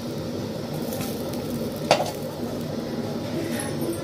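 Vegetables frying in oil in a pan for a mushroom curry, a steady close sizzle throughout with one brief clink of a utensil near the middle.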